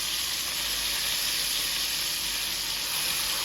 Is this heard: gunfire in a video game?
no